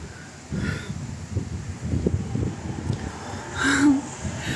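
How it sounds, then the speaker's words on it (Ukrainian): Gusty wind buffets the microphone in low rumbling bursts on a street in central Odesa, with a brief voice and rustling audible near the end. "Друзі, страшний вітер."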